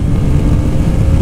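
Hero Xpulse 200 4V adventure motorcycle pulling hard under acceleration, its engine droning steadily and loudly with wind rush, close to the rider with no pauses.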